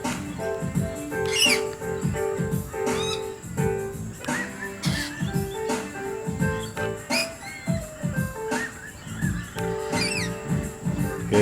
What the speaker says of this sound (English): These are Corellas.